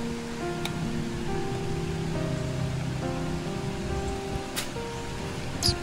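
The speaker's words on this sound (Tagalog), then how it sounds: "Lakas na ng ulan" Heavy rain drums steadily on a tarpaulin-roofed house, a constant broadband hiss throughout, with a few sharper louder drops near the end and no talk.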